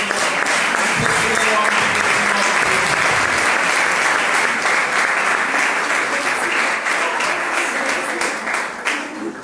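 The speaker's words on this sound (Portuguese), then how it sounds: "Aplausos" Steady, dense applause fills a church service as a congregation welcomes Pastor Bruno Alves, loud and continuous for the whole stretch and tapering slightly at the end.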